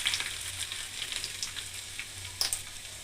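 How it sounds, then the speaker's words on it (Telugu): Dried red chillies crackle in hot oil for a Telugu dal tempering alongside fresh garlic, a steady close sizzle with scattered sharp pops and a brief louder burst near the end. "ఇదిగోండి ఫ్రెండ్స్, పప్పుచారుకి తాలింపు."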